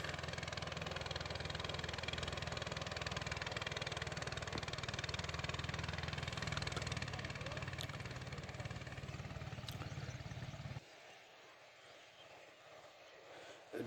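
A motor boat engine drones steadily and close on the Sangu river, a constant mechanical hum that cuts out abruptly near the end, leaving only faint background.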